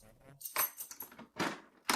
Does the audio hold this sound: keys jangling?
yes